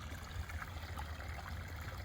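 Water gushing steadily out of a field drainage tile on a farm, a continuous close trickling and rushing flow with a low rumble underneath, no voices over it.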